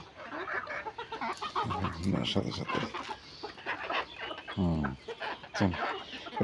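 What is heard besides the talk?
desi chickens clucking while eating corn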